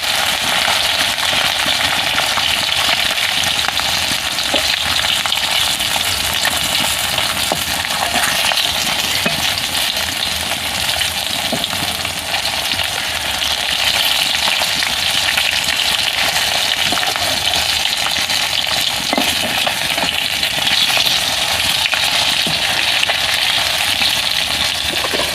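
Koi fish fry in hot oil with a steady, loud, unbroken sizzle and hiss that holds evenly throughout, with no talk.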